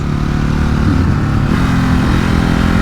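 A Ducati Hypermotard 950 SP motorcycle pulling hard out of a corner in second gear, its engine a loud, close, steady drone that rises slightly in pitch as it accelerates.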